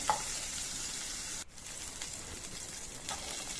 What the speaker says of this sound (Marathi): इथं पॅनमध्ये मी दोन चमचे तेल घेतलं ते आपण आता पहिल्यांदा पनीर आपण फ्राय करून घेऊया